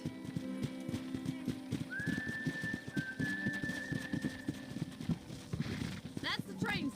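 Horses in a corral in a video game, with continuous clip-clop hoof steps and stamping close by, a long whistle and short bursts of other sounds over them, under steady game ambience.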